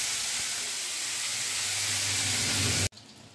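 Bottle gourd pieces go into hot oil tempered with cumin and chilli, a close, loud, constant sizzle and hiss that swells slightly before cutting off abruptly near the end.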